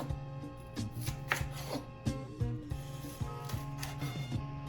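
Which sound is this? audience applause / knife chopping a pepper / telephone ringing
knife chopping a pepper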